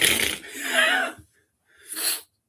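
Someone sniffs a glass of IPA beer to take in its aroma: a couple of close, breathy nasal inhales separated by a short silence, soft and intimate.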